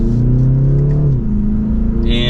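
A 2024 BMW 330i xDrive M Sport accelerates under light throttle with paddle-shifted gears. A steady engine drone climbs, then drops in pitch at a smooth upshift and keeps pulling, heard from inside the cabin.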